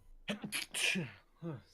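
A single human sneeze, short and close, followed a moment later by a brief spoken voice.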